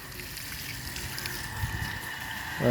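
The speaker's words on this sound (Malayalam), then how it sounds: "ഇതാ നമ്മൾ കിണറ്റിൽ മോട്ടർ വെച്ച് വെള്ളം വാർക്കൽ തുടങ്ങിയിട്ടാ." An electric motor pump set in a well draws water with a steady, continuous hum and flowing rush, close and even throughout, with a brief knock near the end.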